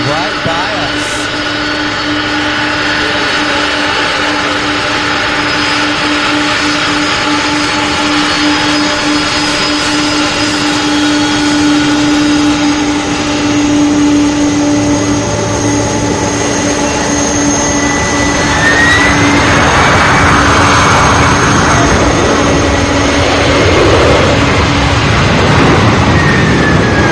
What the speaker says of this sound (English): So we have the 767 landing.